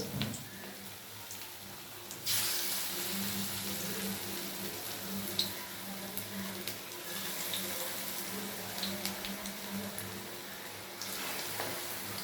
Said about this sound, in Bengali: বাঁধাকপির পকোড়াটা বানানোর জন্য সেটা এখন তেলে ছাড়বো ছোট ছোট করে